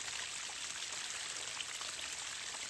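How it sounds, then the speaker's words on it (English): Water pumped from a 39-foot hand-dug well runs off onto the ground, a steady close hiss of splashing, trickling flow with no voices. "we're getting a lot of water running off over here though"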